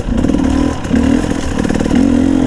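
A 2021 GAS GAS 250 EC off-road motorcycle rides over slippery, frozen, stony ground, its engine loud and close with a steady drone, brief throttle rises and some mechanical clatter.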